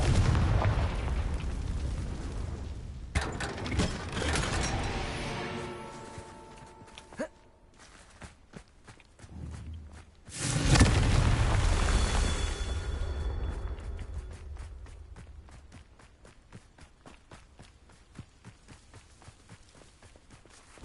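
Fire spell explosions from a magic-casting game such as Hogwarts Legacy, heavy booming blasts with rumbling tails, one around the start and another swelling near the middle, followed by crackling debris and scattered clicks.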